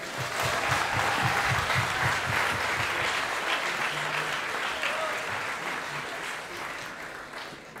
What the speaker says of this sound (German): Kräftigen Applaus!